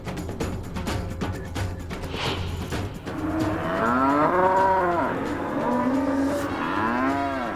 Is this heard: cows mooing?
yes